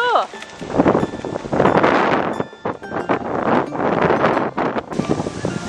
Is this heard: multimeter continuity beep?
no